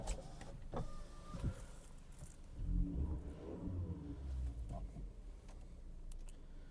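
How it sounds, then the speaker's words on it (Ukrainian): A Volkswagen Golf's power windows run with a steady electric motor whine inside the car, moderately loud and continuous, while faint cabin noises shift in the background. "Склопідйомники. Працюють."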